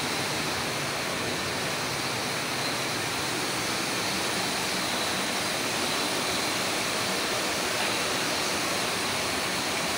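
Heavy rain pours down steadily during a water delivery job, a dense, loud, continuous hiss with no breaks and no voices over it.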